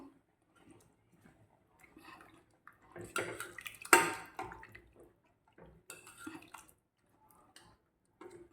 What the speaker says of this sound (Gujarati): ઉપરથી હવે આપણે નાખી દઈશું લીલા ધાણા બરાબર મિક્સ કરી દઈશું